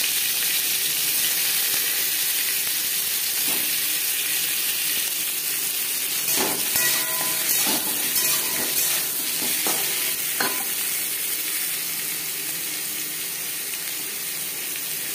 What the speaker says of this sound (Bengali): সবার প্রথমে আলু ভেজে নেব।